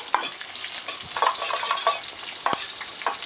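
Eel marinade with salt and olive oil being mixed by hand in a bowl, a steady wet stirring and squishing with a faint sizzle of frying in the background, no talking.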